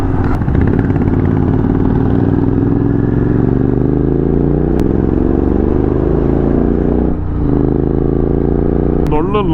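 A group of Royal Enfield-style Classic 350 and Classic 500 motorcycles ride together, their thumping engines loud and close with steady rumble, shifting pitch and some clatter and wind throughout.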